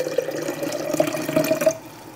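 Water is poured into a one-liter mixing jar for homemade liposomal vitamin C, giving a steady close trickle and splash for about two seconds before it stops.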